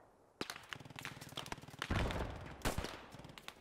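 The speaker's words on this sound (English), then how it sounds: "That's a machine gun to our west." In the video game Post Scriptum, a machine gun fires repeated bursts of rapid shots at moderate distance, with heavier thumps and rolling echoes between the bursts.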